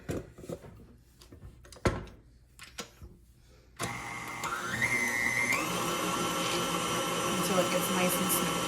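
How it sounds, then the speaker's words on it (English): A stand mixer beats chocolate cake batter for a peanut-butter-iced cake, starting abruptly after a few quiet clinks and then whirring steadily and loudly, close by, with a high pitch that rises briefly. "I like to take my stand mixer and finish mixing the batter in the stand mixer."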